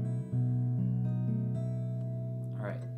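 A guitar chord strummed from open and fretted strings, the fifth string played with the thumb in a fingerstyle pattern, ringing with sustained tones and a few picked notes changing the voicing before it fades.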